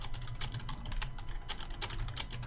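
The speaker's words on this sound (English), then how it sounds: "Wow, that was a loud keyboard." Loud, rapid clacking of computer keyboard keys, close up, in quick uneven bursts with no talking.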